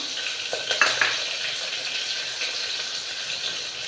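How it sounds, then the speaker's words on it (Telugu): Two dried red chillies fry in hot oil, giving a close, steady sizzle with a short clatter of a utensil against the pan near the start. "ఎండుమిర్చి ఒక 2 వేస్తున్నాను."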